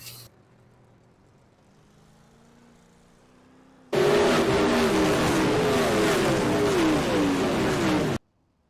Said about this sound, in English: Cars going around, cars going flipping